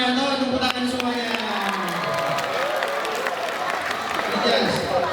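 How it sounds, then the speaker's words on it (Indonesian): An audience at an Isra Mi'raj religious gathering claps and cheers, a sustained wash of applause with a voice speaking over it throughout. "Betul semuanya, tepuk tangan semuanya."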